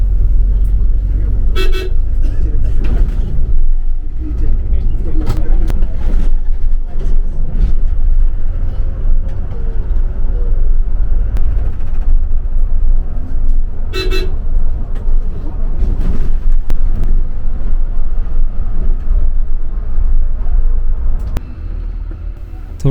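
HRTC Volvo luxury bus running along the road to Shimla, a loud, steady low engine and road rumble from inside with two short horn toots, one early and one midway, and some talk in the background.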